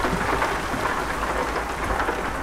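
Steady rain hiss in a truck-driving simulator featuring a KAMAZ 54115, a dense even wash of drops on the surface with a low rumble underneath, constant and fairly loud throughout with no talking.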